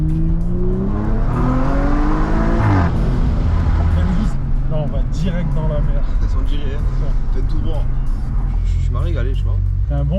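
A limited-edition Audi RS4 ABT-R pulls away and accelerates, its engine note climbing loudly through the gears from inside the cabin while people talk over the steady drone.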